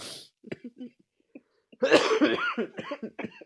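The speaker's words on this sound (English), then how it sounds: "Cough break." Someone coughs several times in a short fit, close up, with quiet pauses between, followed by a harsher, raspier burst of coughing.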